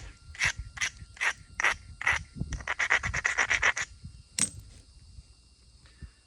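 Agatized coral spearpoint ground with an abrading stone during flint knapping, a series of close, harsh scraping strokes, first spaced, then quick and rapid, followed by a sharp tap and quiet.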